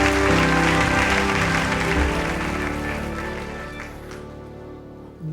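A church congregation at Impact Centre Chrétien claps and cheers for Jesus in a dense, sustained burst of applause that fills the room, then slowly thins toward the end.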